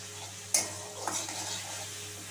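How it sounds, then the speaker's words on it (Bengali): Ginger paste sautéing in a pan for vegetable biryani, a low constant sizzle with one sharp spoon clink against the metal and a softer scrape after it, close and quiet, with no voices. "আদা বাটাটা দিয়ে একটু ভালো করে আমি একটু কষিয়ে নেব।"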